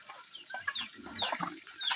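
Chickens cluck on a rural farm at feeding time, short bursts of clucks and squawks coming and going at moderate distance, with a few sharper calls near the end.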